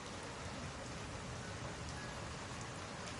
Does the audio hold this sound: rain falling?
yes